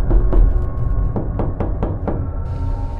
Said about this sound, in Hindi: फिर उसे दरवाजे पीटने की आवाज़ आई।